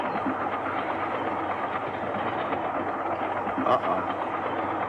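A train rumbles steadily along the rails, a continuous muffled roar with faint rhythmic clatter underneath.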